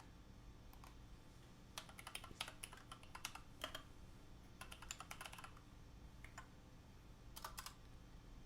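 A custom-built mechanical gaming keyboard being typed on: quiet, quick bursts of key clicks and clacks in uneven rhythm, close and alone with no talk.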